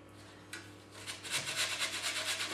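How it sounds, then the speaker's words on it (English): A very small onion rubbed over the finest holes of a kitchen grater, close rhythmic rasping strokes speeding up into a quick steady scrape with no talking. "I'm going to grate a very small onion into this using the smallest part of my grater."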